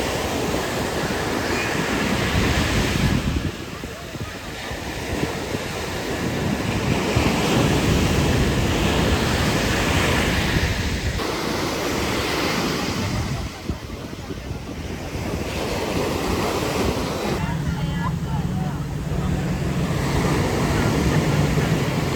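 Ocean waves breaking on a beach, heard as steady broadband surf with swelling and receding washes, mixed with gusty wind buffeting the microphone throughout, with no clear talk.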